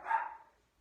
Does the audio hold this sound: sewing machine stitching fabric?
no